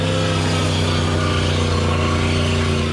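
Classic car engines rumble at a large coastal car show in Mississippi, a steady, loud low idle with a throaty mechanical drone held throughout.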